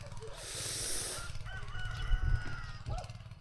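Plump backyard chickens give short, scattered clucks over a steady low rumble, with a burst of broad hiss near the start.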